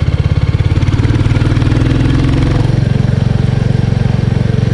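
A 2024 Royal Enfield 350 Bullet motorcycle ridden along, its single-cylinder engine giving a steady, close, loud low thump that shifts in pitch midway as the rider changes speed, with wind noise throughout.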